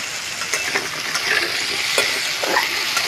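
Small diced potatoes sizzle steadily in a pan while a spoon scrapes and stirs them in short bursts, close by and with no talk.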